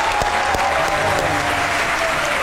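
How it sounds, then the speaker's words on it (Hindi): A studio audience breaks into dense, steady applause that continues evenly and fairly loudly for the whole stretch. "आपकी भरपूर तालियों में"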